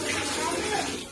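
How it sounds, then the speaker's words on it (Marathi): Water runs steadily from a tap as containers are filled at home, a close, broadband rush lasting about a second. "पाणीचा आवाज आला. पाणी कोण भरतोय बघायला आलं"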